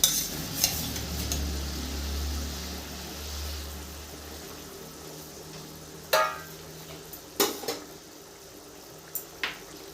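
Pieces of bhola fish go into a pan of mustard curry over a low simmering bubble, followed by a few sharp metallic clinks and scrapes of a utensil against the pan.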